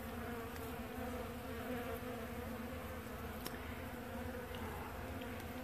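A large, healthy honeybee colony being removed from a mobile home gives a constant, fairly quiet buzzing hum, steady throughout with no voices.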